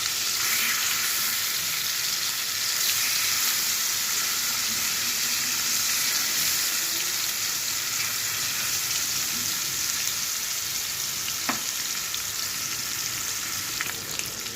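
Hilsa fish pieces frying in a pan, a loud, continuous close sizzle like heavy rain with occasional sharp pops and a faint scrape of stirring.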